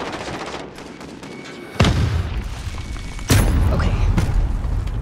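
Gunfire in Call of Duty: Modern Warfare (2019) multiplayer: two sharp, loud booming shots a second or so apart, each trailing into rumbling decay over a low game background.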